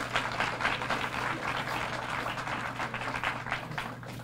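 An audience at a graduation ceremony claps in a steady burst of applause, moderately loud and without talk, over a low constant hum.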